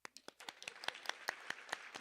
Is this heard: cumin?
no